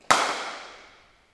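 A single crisp crack as a cricket bat meets the ball during a junior net session, loud and close, followed by a ringing decay that fades over about a second, with no voices.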